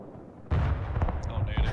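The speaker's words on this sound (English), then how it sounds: "I'm firing on that Kamaz in the middle." Artillery fire in the video game Broken Arrow, aimed at a Kamaz truck: a sudden heavy boom breaks out of a quiet start, followed by a rolling rumble with a few sharper cracks and distant bursts.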